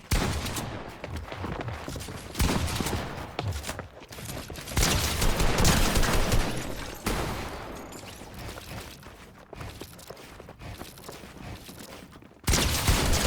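Automatic gunfire in Fortnite, with sustained bursts of rapid shots rattling across the whole stretch in loud, close volleys, separated by brief dips and resuming sharply near the end.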